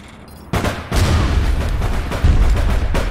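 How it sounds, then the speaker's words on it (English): A grenade explosion in a video game mission sounds as a sudden loud burst, then dense rumbling gunfire and blasts that carry on without a break. "Just took a grenade to the face and everything."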